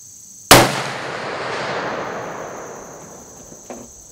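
A long range muzzle loader fires one sharp, loud report. A long rolling echo trails off over several seconds, and a faint second knock follows near the end.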